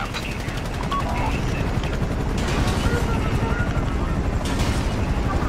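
Helicopter in a first-person video game, a loud steady rotor chop with rhythmic pulsing throughout, mixed with bursts of game noise and background chatter.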